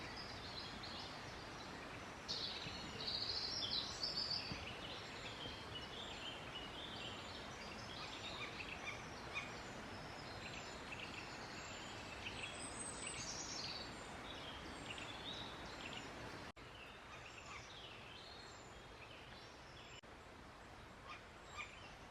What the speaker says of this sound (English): all you can hear is the bird song